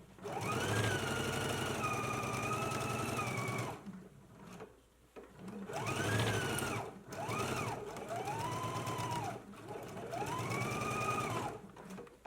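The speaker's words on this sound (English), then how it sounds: "Let's go ahead and pin and stitch it in place using a 5/8 inch seam allowance." A sewing machine stitches a jacket seam with a 5/8 inch seam allowance, its motor whirring loud and close in several long runs broken by brief pauses, with the pitch rising and falling as the speed changes.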